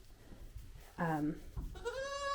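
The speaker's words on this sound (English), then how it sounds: "it doesn't hurt to socialize with your little goat kids" Young goat kids bleat in two short wavering cries close by, after low background murmur, at a farm during kidding season with bottle-fed babies.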